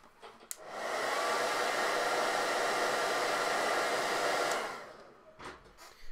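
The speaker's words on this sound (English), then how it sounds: "Let's hit this with a hairdryer." A hairdryer dries a coat of paint on a Dark Eldar miniature. It switches on, blows as a loud, steady rush for about four seconds, then winds down and stops.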